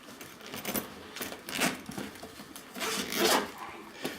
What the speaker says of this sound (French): Alors on va ouvrir le sac.